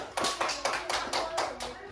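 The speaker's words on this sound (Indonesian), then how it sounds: "Beri tepuk tangan kepada kelompok 1." A small classroom group claps for about two seconds for a student group, a few uneven bursts of applause with light voices in the background.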